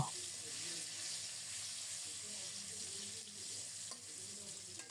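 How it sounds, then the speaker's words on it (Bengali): Mustard seeds temper in hot oil left from frying topshe fish, a steady close sizzle and hiss that runs without a break throughout. "ওই তেলেই সরিষা ফোড়নে দিলাম"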